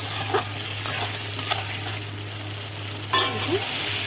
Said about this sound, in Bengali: দেখুন একটু ভালো করে নাড়াচাড়া করে তারপরে জল দেবো।